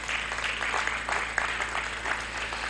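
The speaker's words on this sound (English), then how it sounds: "Can we give her a round of applause, please?" An audience at a presentation on international trade and carriage of goods by sea applauds a speaker, a steady, moderately faint wash of clapping over a low hum.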